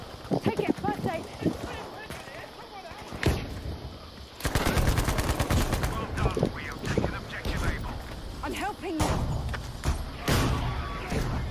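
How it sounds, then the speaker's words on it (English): Artillery and gunfire in a Battlefield V battle, with heavy bursts of rapid blasts and booming impacts, loud and dense, crackling alongside shouting voices and talk. "Enemy artillery."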